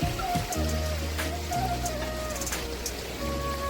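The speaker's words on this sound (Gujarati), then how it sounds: "હવે વરસાદ પણ ચાલુ થઈ ગયો છે." Steady rain hisses and patters across a surface beside the overflowing Bhadar River, a dense, continuous wash of drops with low rumbling underneath.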